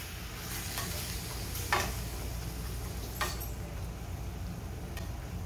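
Ground beef and red chile frying in a pan, a steady soft sizzle with a few sharp scrapes and taps of a utensil stirring the meat, close and fairly quiet, with no voices.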